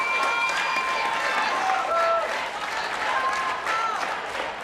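A live esports crowd at a Madden Bowl final cheers and applauds steadily, a loud, dense wash of clapping and whistles with a couple of brief swells, no clear speech on top.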